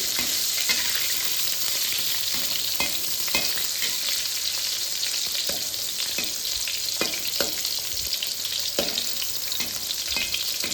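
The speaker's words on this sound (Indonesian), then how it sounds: "sekarang kita goreng terongnya" Steady, loud sizzling of eggplant frying in hot oil, with scattered pops and occasional scraping clicks of stirring throughout.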